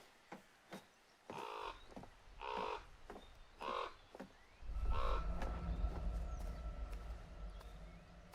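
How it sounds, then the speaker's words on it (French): A crow in The Quarry video game caws in a string of harsh, evenly spaced calls over a low ambient rumble that swells in the second half. "C'est le corbeau de la vieille dame."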